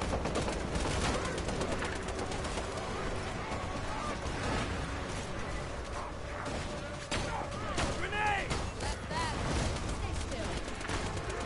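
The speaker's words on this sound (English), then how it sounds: "That thing fire off like a firecracker, man." Gunfire in Borderlands 2 on PS4, dense bursts of shots with a firecracker-like crackle running continuously, mixed with game effects while a voice talks over it.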